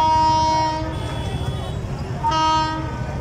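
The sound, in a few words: train horn at railway crossing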